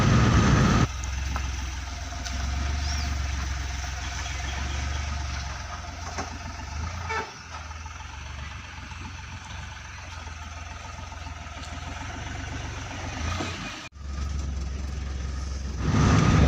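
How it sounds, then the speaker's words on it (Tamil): A vehicle engine idles with a low, steady rumble while reversing on a village road, fairly close and unbroken for most of the stretch, with a brief dip near the end. "வண்டி ரிவேஸ் எடுக்கிறோம்"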